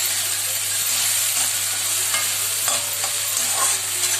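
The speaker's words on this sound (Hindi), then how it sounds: "और इसमें दे दिए टमाटर हम लोग दे दिए, करके इसे फ्राई करना है।" Tomatoes frying in oil for a katla fish curry, a steady, loud sizzle with occasional spatula stirs and a low hum beneath, up close.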